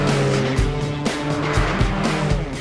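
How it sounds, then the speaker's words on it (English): Porsche 718 Spyder or Cayman GT4 sports car driven hard on a racetrack in Scotland, engine droning loudly with rhythmic gear-change surges and revs rising and dropping repeatedly. "playing around on a racetrack in Scotland with my wee brother in these amazing Porsche 718"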